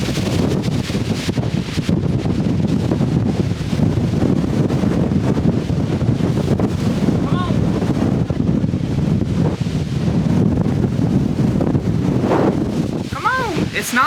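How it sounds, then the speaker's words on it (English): Strong wind on an exposed stretch of a Grandfather Mountain hike roars and buffets the microphone without a break, with faint voices partly buried beneath it. "I'm literally worried about the wind blowing."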